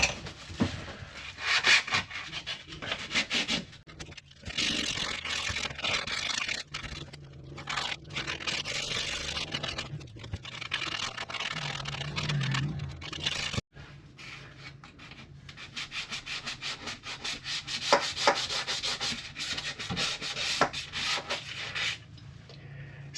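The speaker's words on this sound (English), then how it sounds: "This is 240 sandpaper. It's the finest I had, so I'll give it a shot and see if that cleans it up a little bit" Fine 240 grit sandpaper is rubbed by hand over a caravan ceiling being repaired after a roof leak, giving irregular scratchy strokes up close with short pauses between passes.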